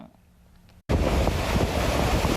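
Loud, roaring surf crashes in after a brief silence on the Taitung coast during a typhoon, a dense rush of five-metre breaking waves mixed with heavy wind noise buffeting the microphone.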